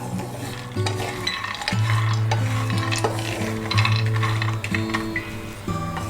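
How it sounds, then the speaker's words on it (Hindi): Almonds, cashews and pistachios dry-roasting together in a pan, with a continuous scraping, stirring rustle over a steady low hum and no talk. "मैं यहाँ पर जो हमारे आलमंड्स है, कैश्यू है और पिस्ता, इनको एक ही साथ में रोस्ट कर रही हूँ"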